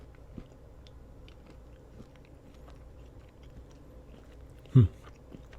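A Feastables almond chocolate bar gives a single crisp crunch as it is bitten near the end, with only faint quiet chewing and room noise beforehand.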